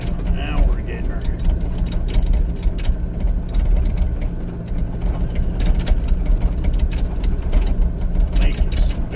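An excavator engine runs loud and steady as the machine pushes a rock on a slippery slope, with continuous mechanical rumble and clanking throughout.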